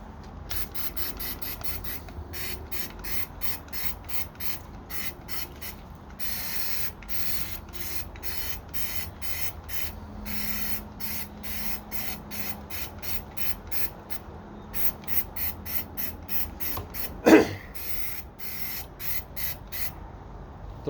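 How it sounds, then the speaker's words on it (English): Rattle can spraying Dominion Sure Seal textured coating onto a Nissan Xterra grille, in repeated short hissing bursts with brief pauses between them, close to the microphone, followed by longer sweeps near the end. "As far as the spray can, it works really, really well."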